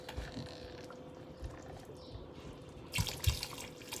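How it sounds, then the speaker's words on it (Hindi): About four cups of water poured into a pot of simmering nihari with tender meat, a low gurgling trickle that swells into a louder splashing pour near the end. "तकरीबन 4 कप पानी और ऐड करते हैं।"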